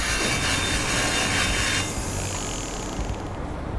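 A hand file rasps against a metal bicycle frame in a frame builder's workshop, a close, steady scraping that is loud at first and then eases off to softer strokes.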